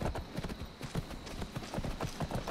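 Horse hooves clip-clop steadily in Skyrim: Wildlander, a rhythmic series of close, moderately loud hoof strikes continuing throughout without talk.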